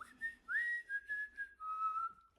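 A short, melodic whistled tune, several sliding notes in a row, close and clear with no talking.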